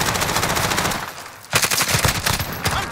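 Rapid automatic gunfire in the Call of Duty-style shooter Rebirth, dense bursts of loud, close shots rattling, a brief lull, then a heavier salvo of sharp reports.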